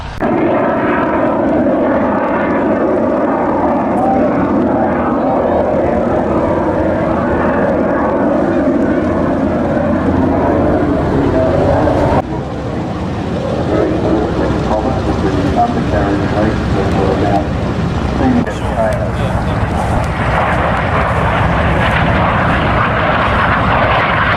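A vintage propeller aircraft with flared exhausts flies at an airshow, its engine a loud, steady drone throughout with a brief dip midway, sustained and near, with voices talking faintly beneath.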